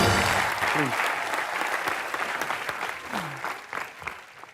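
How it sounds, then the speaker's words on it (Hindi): Studio audience applauding on a Comedy Nights With Kapil set with boxer Vijender Singh and badminton player Jwala Gutta as guests, a dense, steady wash of clapping that tapers slightly over several seconds. "जोरदार तालियां ज्वाला के लिए।"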